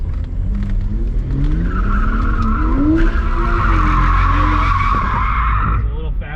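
A BMW E90 drift car with an open differential skids through a long tire squeal, its engine roaring loud and close under the shrieking rubber, while people talk over it.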